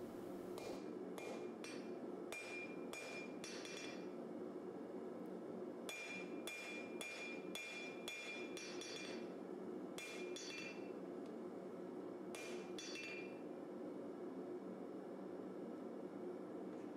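Hammer forging a distal taper into a canister Damascus knife blade of 1080 steel and nickel powder on an anvil: bright metallic ringing strikes in quick irregular bursts, separated by pauses, over a steady roar from the forge.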